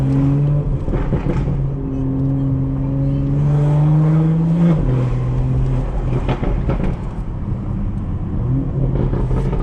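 A BMW 4 Series with the B58 engine rumbles loudly and steadily from up close, its exhaust tone rising and falling with each upshift and downshift, with a sharp drop near the middle as a gear changes.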